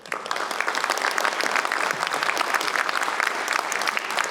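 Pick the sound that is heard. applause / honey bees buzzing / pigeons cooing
applause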